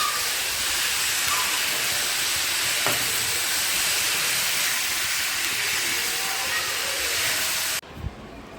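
A pot of bhaji greens simmering with salt on a home stove gives off a steady, even hiss that holds for several seconds before cutting off abruptly near the end.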